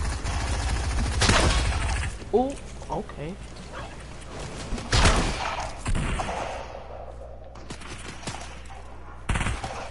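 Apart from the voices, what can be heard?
gunfire in the video game Fortnite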